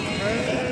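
Sheep and goats at the Bijinepalli livestock market bleat in a short, nasal, wavering call that stands out close and loud over the general market hubbub.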